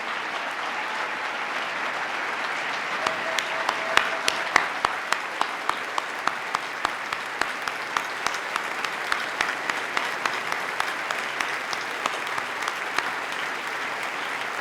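A large audience at a State of the State address applauds police and first responders, a dense and steady roar of clapping with a few louder claps up close, and no talk over it.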